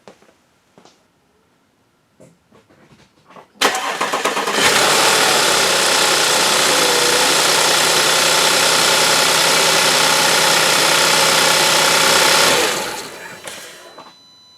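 A 2010 Audi Q5 3.2 V6 engine cranks and catches after a few faint clicks, then settles into a steady, loud idle for about eight seconds before shutting down and fading out.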